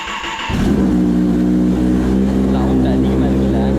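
Motorcycle engine suspected of an engine problem revs up sharply after a brief quiet moment, then holds a loud, close, steady growling drone with slight fluctuations.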